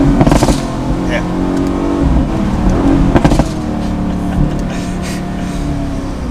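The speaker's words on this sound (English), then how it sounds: "That thing is popping like a machine gun back there." A 2018 Mercedes-AMG GT C Roadster engine revs hard on downshifts while the exhaust crackles and pops in sharp bursts, loud and close, with people talking over it.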